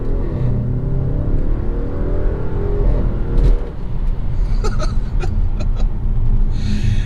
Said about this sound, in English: And then we'll give it a launch here in the road.